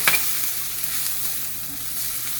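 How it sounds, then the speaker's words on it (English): Steady close sizzle of crushed garlic and Hungarian paprika sautéing in a hot pan for a meat pie filling, a continuous hiss with a brief clatter at the start and no talking. "So now we're going to add our tablespoon of crushed garlic, saute that in, a tablespoon of Hungarian paprika,"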